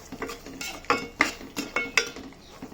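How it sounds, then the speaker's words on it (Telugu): A spoon scrapes and clinks against a pan while mushroom masala curry is stirred, giving a series of close, light metallic knocks and scrapes at an uneven rhythm with no talking. "ఒకసారి కలిపేసుకుందాం"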